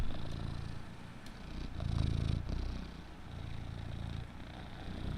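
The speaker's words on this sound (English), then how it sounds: "You want to hear him? You want to hear his purr?" A male house cat purrs up close in a steady, rhythmic rumble that swells and eases with each breath, with no talking over it.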